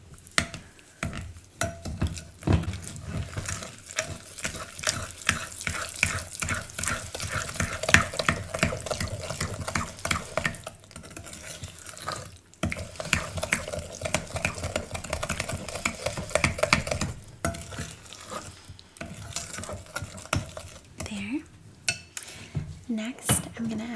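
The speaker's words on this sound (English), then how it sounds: "And I'll just give this a stir." Molasses crinkle cookie ingredients are stirred in a bowl in a quiet home kitchen, with repeated close clinks and scrapes of a utensil against the bowl in an irregular, continuous rhythm.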